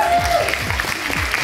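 Applause from a fan meeting crowd in Hamburg, brief clapping with a voice briefly talking over it on stage.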